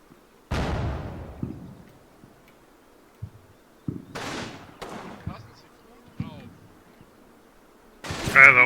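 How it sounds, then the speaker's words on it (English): Artillery shells slam down in the wargame Combat Mission: Rome to Victory, a heavy blast opening the barrage and further booming impacts following at irregular intervals, each rumbling off before the next, with a loud cluster of hits closing it out. "And here comes my artillery."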